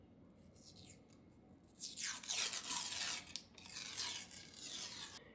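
A paper label peeled from a Pillsbury Mini Cinni Stixs dough can makes close, soft tearing and rubbing sounds in several short pulls, the longest stretch in the middle, with quiet gaps between.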